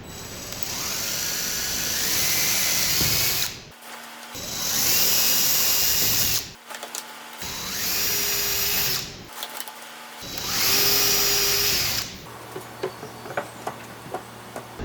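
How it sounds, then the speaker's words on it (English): A power drill whines loudly in four long bursts, spinning up and boring through wood blocks for a couple of seconds each, with short pauses between, then quiet clatter. "I'm going to drill through these just enough to put a little hole in the blocks behind it"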